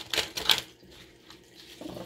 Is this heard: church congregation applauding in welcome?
no